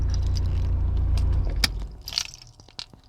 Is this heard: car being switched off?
yes